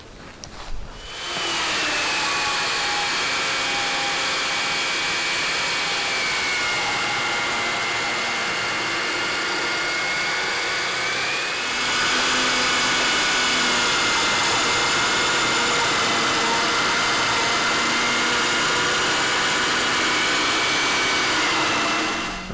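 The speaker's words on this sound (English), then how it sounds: "Just using the mortising machine on this jig. Basically just makes a square on a round timber." A mortising machine cuts a square into round timber, held in a jig for a roundwood timber frame roof support, giving a steady, loud, continuous motor whine that shifts slightly in pitch midway and runs throughout with no voices.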